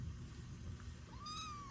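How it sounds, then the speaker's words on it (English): A cat stuck in a garden gives one faint, rising meow near the end, above a low, soft outdoor background. "Hold on, gotta go save the kitty cat."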